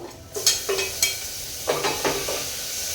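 Tomatoes frying with onion and ground spice paste for a soya chunk curry, a soft sizzle under several sharp spoon-and-pan scrapes and clinks as the mixture is stirred, close and steady with no talk.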